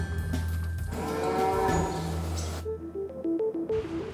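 Young cattle being loaded into a trailer on a farm bound for the mart: low lowing and bellowing calls up close, followed by rattling, clanking trailer and pen sounds, no talking.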